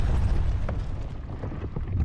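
Explosion from a blaster in a Minecraft Bedrock add-on, a deep, muffled rumbling boom that rolls on steadily with low, heavy thuds throughout.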